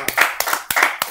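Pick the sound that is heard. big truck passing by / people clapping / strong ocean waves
people clapping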